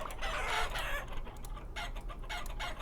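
Roosters crowing and clucking among chickens in the video game Vintage Story, several overlapping calls at a moderate distance over a low background hum, with no talking.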